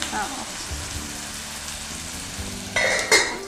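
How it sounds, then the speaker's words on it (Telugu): Food frying in a pan in a home kitchen, a steady soft sizzle and crackle running throughout, with a brief louder burst of stirring or spitting near the end. "ఇంకొంచెం ఫ్రై అవ్వాలా ఇది?"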